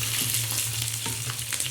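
Green chillies frying in a hot garlic tempering for a fenugreek leaf curry, a continuous close sizzle with a few light stirring taps and no talk.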